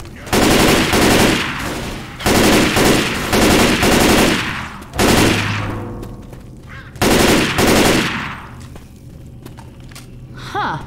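Rifle fire in the game Left 4 Dead comes in loud, dense sustained bursts, four long volleys of rapid shots separated by brief pauses, close and dominant.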